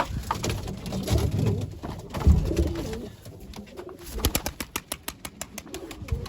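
Smoke-colored Mardin tumbler pigeons coo softly in low, throaty bursts, with rustling and fluttering nearby and a run of rhythmic flapping toward the end.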